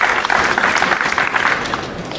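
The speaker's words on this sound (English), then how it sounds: "And again, the crowd gives a nice, polite round of applause" A crowd at a sports match gives a polite round of applause, a dense, steady patter of clapping that holds loud throughout and eases slightly toward the end.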